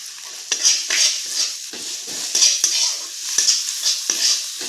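Ginger garlic paste and onions frying in a pan for a pointed gourd and prawn dish, a bright sizzle broken by repeated close stirring strokes and scrapes in an uneven rhythm, loud and alone.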